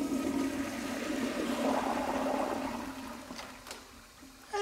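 A household toilet flushes close by, a loud swirling rush of water that holds steady, then drains and tapers into trickling with a faint gurgle near the end.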